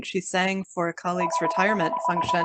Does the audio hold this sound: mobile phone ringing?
yes